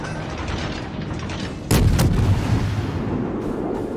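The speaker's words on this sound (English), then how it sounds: "we're only able to fire some guns that are going forward" Warship guns firing in a naval video game: a single heavy, booming salvo hits sharply and rolls off into rumbling, loud and close, with no talk.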